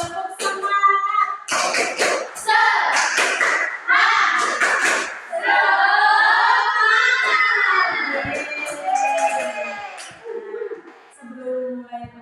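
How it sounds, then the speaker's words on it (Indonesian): A classroom of children performs the 'tepuk semangat' spirit-clap routine, a lively run of rhythmic claps and slaps mixed with chanting voices, loud and close, with a teacher's voice leading and kids responding throughout. "Bisa kan tepuk semangat? Bisa. Tepuk semangat."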